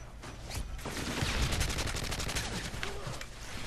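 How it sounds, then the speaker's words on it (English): Suppressed gunfire from a silenced weapon in the video game Modern Warfare 3, dense rapid bursts of muffled shots running steadily throughout over constant game background noise. "Let's see what we got with a silencer on it."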